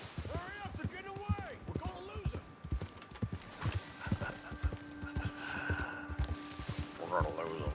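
Horse hooves clip-clop steadily in Red Dead Online as riders travel together, with whinnies mixed in and voices talking over the rhythmic hoofbeats throughout.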